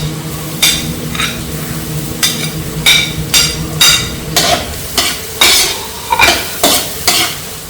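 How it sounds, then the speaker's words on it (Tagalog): Garlic sautéing in a frying pan with very little oil for goto, light sizzling under a series of sharp, rhythmic spatula scrapes and taps against the pan, close and fairly loud. "Lalagay na po natin ang bawang."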